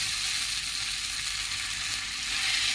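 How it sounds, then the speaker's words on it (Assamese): A spice paste sizzles and fries in hot ghee in a pan while a breakfast dish is cooked, a steady close hissing crackle with no voices. "ঘিউখিনি গৰম হোৱাত মই এতিয়া আমি বনাই লোৱা পেষ্টটো ধুনীয়াকৈ"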